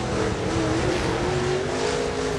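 Late model race cars roar around Salina Speedway in Kansas, a loud continuous engine drone with rising and falling pitch as the pack runs laps, tires faintly squealing, with no talk.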